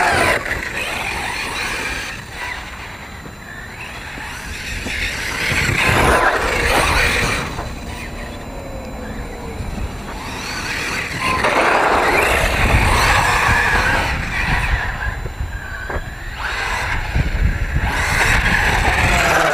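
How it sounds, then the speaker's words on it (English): Arrma Talion RC car on a 4S battery, its electric motor screaming loudly in surging bursts as it accelerates and passes, with tire scrub between runs. "Amazes me how these cars scream on 4S."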